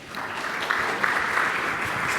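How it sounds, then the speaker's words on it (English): A marketing conference crowd applauds as two speakers come on stage, a soft, even wash of clapping from a hall, moderately distant and steady throughout. "Give them a round of applause to bring you on stage."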